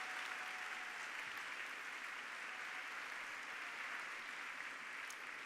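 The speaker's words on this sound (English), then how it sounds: "So a big round of applause and thank you for our sponsors." Steady, sustained applause from a conference audience thanking event sponsors at a science and technology exhibition opening in Northern Ireland, dense clapping filling the hall evenly throughout.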